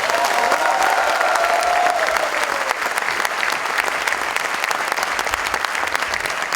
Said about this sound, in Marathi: Can we all clap for this occasion today?